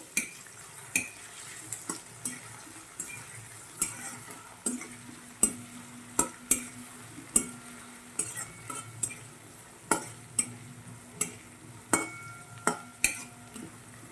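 Finely chopped tomato is stirred in a cooking pan for a moong dal curry, with a steady run of quiet spoon taps and scrapes against the metal and a faint low sizzle.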